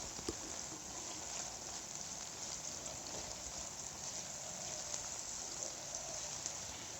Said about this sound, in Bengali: এখানে একটা মিডিয়াম সাইজের পেঁয়াজকে লম্বা স্লাইস করে কেটে নিয়ে ভেজে নিতে হবে।